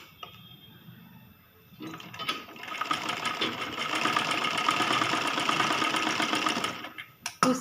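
An electric sewing machine stitches cloth for a girl's long frock, running in a steady, rapid mechanical chatter for about five seconds, close and clear, with quieter handling noises before and after.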